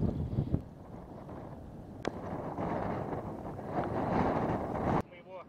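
Wind blows outdoors across a microphone on a cold, foggy day at a kite-flying spot, making a continuous rumbling buffet that swells and fades. A sharp click comes partway through, and the wind then cuts off abruptly near the end.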